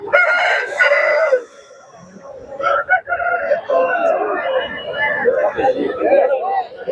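Chickens and roosters at a large South Indian poultry market cluck and crow close by, with repeated loud crows among busy chatter and people talking around them.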